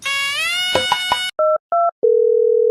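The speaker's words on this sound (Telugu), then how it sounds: "ఒక్కసారి నీ ఫ్రెండ్ రాజుకి ఫోన్ చేయి." A telephone tone plays as a call is placed to a friend: first a harmonic-rich tone, then two short beeps, then a long steady dial tone that runs until the end, loud and close with no talk.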